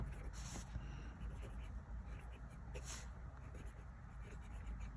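Diplomat Aero fountain pen with a medium nib and Herbin ink writing on paper, soft scratchy strokes close by over a low background hum, with a couple of brief brighter scrapes.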